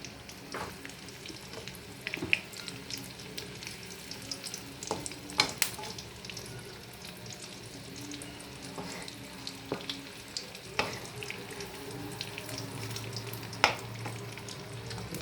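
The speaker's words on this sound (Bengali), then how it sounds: "স্টিমটা কমিয়ে নিয়ে একটু ফ্রাই করি।" Fish and egg fritters fry in a pan with the heat turned down, a steady soft sizzle broken by sharp clinks and scrapes from stirring, with no talking.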